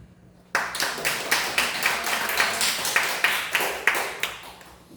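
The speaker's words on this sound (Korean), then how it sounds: "이렇게 박수로 환영해 주시기 바랍니다" A church congregation at a Friday night worship service in Uijeongbu breaks into clapping all at once, with loud, rhythmic claps steadily repeating in unison and no voices heard.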